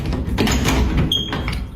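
Someone tries a locked door in a house, with a few muffled knocks and rattles of the handle, close by and moderately loud, with no one speaking over it.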